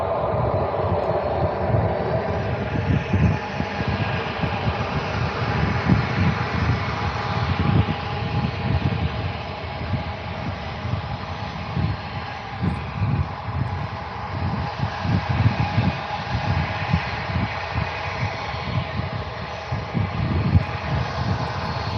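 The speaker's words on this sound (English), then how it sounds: "the Jet2 737 is now taxiing, so that one will soon departure off to London Gatwick." Jet engines of a Jet2 Boeing 737 and EasyJet jets at Faro airport, a broad continuous roar with rumbling undertone, steady and moderately distant throughout.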